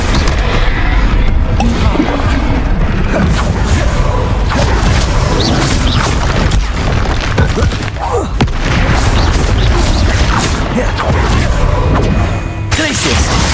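Bombarda spell blasts in the Hogwarts Legacy game, a continuous loud barrage of booming explosions and crashing impacts with whooshes, dense and close throughout, with voices faintly mixed in.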